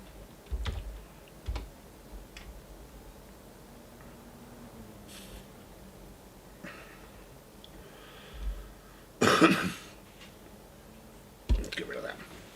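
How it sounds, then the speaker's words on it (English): Bursts of typing on a computer keyboard, scattered clicks and short clusters of keystrokes over a quiet background, with soft breathing and low murmured speech around them. "Helps if I can type better"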